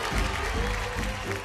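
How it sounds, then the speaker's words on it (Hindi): Applause from a studio audience on a televised kids' dance competition finale, a dense steady wash of clapping with a low rumble underneath, sustained and fairly loud throughout. "जोरदार तालियां।"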